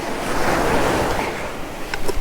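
Ocean surf breaking steadily at a beach where sharks are being fished, a continuous close wash of waves with some wind buffeting the microphone.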